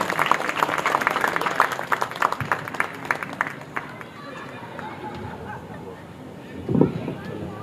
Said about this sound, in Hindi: आप जोरदार तालियां बजा करके आमंत्रित करें